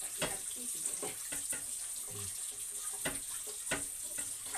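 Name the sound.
hot tap water running into a pan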